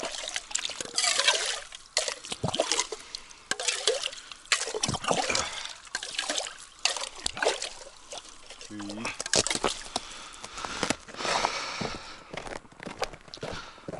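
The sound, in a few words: spring water being poured into a large mug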